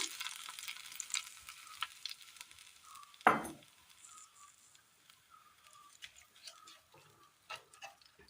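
Mustard seed tempering poured into a shallot milk curry off the heat, a soft sizzle and crackle with one sharp splash near the start, then faint scattered popping.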